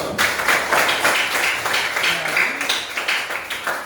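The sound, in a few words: applause, audience clapping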